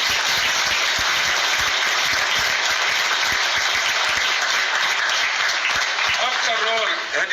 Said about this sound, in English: Give a big hand of applause for them.